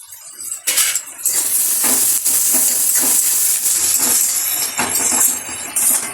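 Onion and garlic paste sizzles and hisses loudly in a hot pan, with a steady frying roar broken by repeated scrapes and knocks of a spatula.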